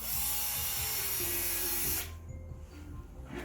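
A power drill bores a hole through the plastic case of a portable suction machine, a steady close whine for about two seconds, then it stops, leaving quieter handling noise.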